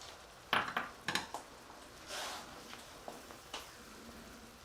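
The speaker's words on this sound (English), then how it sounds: "we're going to add 4 tablespoons of our flour and mix that together" A utensil scraping and clinking in a pan as flour is stirred into melted butter, several short soft knocks and a brief scrape, quiet with pauses between.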